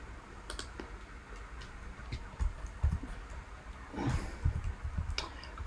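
Computer mouse clicks while placing a sell order on a trading screen, a few soft, sparse clicks and taps close by in a quiet room with no talking.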